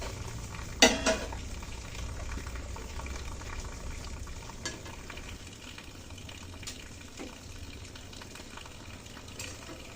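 Luchi, puffed Bengali flatbread, frying in deep hot oil: a continuous bubbling sizzle with a sharp clatter near the start and occasional light scrapes, no talking.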